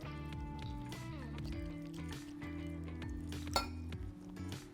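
Olive oil and water being stirred together in a bowl for a batter, giving light repeated clinks of utensil against the bowl beneath steady background music.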